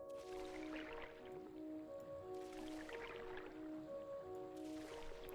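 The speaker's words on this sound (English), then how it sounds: "Drop sand in water." Sand dropped into water in the physics-based factory builder game Sandustry gives soft, squishy watery splashes in three evenly spaced bursts over a steady sustained tone, fairly quiet throughout.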